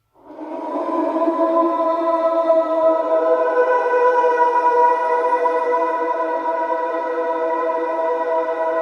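Processed vocal chops built from a single sample-pack vocal, sustained and harmonically rich with effects layered on, playing steadily alone for nearly nine seconds.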